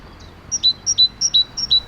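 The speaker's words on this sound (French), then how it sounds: "Il y a les merles." Blackbirds singing in an urban park, a repeated bright two-note whistled phrase sounding about six times in a steady rhythm, moderately loud and close over quiet background hum, with no talking.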